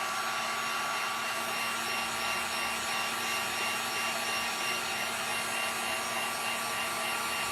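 A hair dryer blows steadily on freshly painted pieces of a DIY lemon pie sign, a constant close whirring hiss with no talk.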